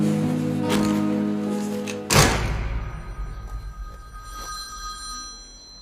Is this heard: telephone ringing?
yes